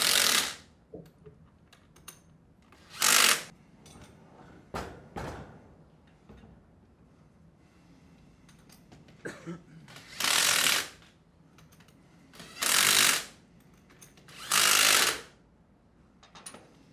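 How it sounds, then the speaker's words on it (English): A ratchet tightening bolts on a Sandpiper HD20F diaphragm pump, several separate bursts of rapid clicking of roughly a second each, spaced apart with quieter handling noises between. "tighten the bolts up a little bit and then tighten them down evenly in a star pattern"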